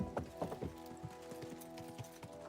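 Quiet clip-clop of horse hooves in the medieval video game Kingdom Come: Deliverance 2, a few irregular hoof steps at a walking pace, faint and fairly close, with no voices.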